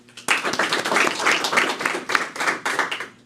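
Steady applause from a crowd at a humanitarian awards ceremony, dense clapping sustained throughout with small surges, fairly close and loud.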